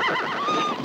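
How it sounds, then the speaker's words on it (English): A horse whinnies once, a brief wavering neigh heard fairly close and alone, lasting under a second. "My horse, Red Hoop"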